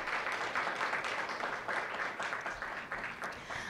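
Audience applause for school district board members at a student leadership summit, a dense steady patter of clapping that holds for several seconds at moderate level, somewhat distant.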